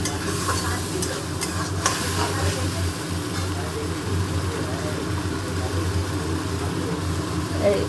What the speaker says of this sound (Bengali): টমেটো দিয়ে দিলাম টমেটো কষতে কষতে গলে যাবে